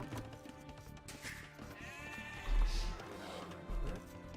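Sheep bleating in the strategy game Age of Empires II, two or three wavering bleats at modest volume over soft in-game background sounds.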